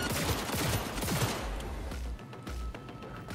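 Rapid handgun shots crackle in a fast burst in Cyberpunk 2077, loud and close at first, then the shooting thins out as the burst ends.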